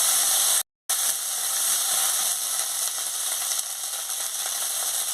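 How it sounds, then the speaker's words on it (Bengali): Potatoes sizzle steadily in a pan with turmeric powder, a loud continuous frying hiss with a brief dropout near the start, then an even crackle for several seconds, no talking. "হলুদের গুঁড়ো দিয়ে দিচ্ছি, দিয়ে আলুটাকে ভালো করে ভেজে নিচ্ছি।"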